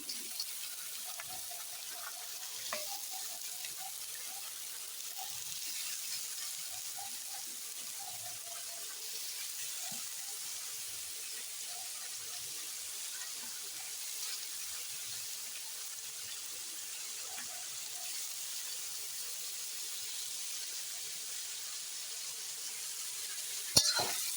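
Carrots frying in hot oil in a pan, giving a faint, steady sizzling hiss with occasional soft stirring movements and a small clack near the end, quiet and without voices.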